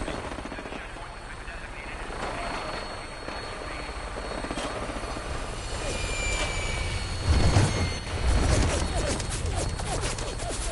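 A Vertibird aircraft in Fallout 4 lifts off with a loud, steady rotor and engine roar throughout, swelling briefly near the end, with a few radio voices talking over it.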